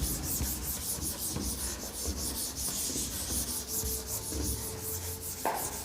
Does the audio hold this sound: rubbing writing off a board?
yes